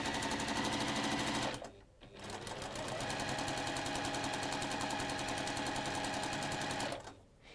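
Sewing machine chain piecing quilt pieces, running in fast, even bursts of stitching with a short pause near two seconds and a stop near the end, close and clear with no talk.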